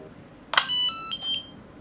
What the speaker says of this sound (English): I'm going to connect my smart power block to my buzzer block.